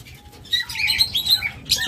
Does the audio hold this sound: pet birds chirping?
yes